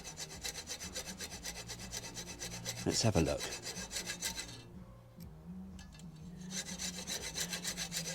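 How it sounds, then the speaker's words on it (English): A magnet is being sawn out of an Accuspark distributor module. The steady back-and-forth rasp of the blade is close and quiet, pauses briefly, then resumes, with soft background music and a brief spoken remark. "We'll cut one of the magnets out and see how big they are."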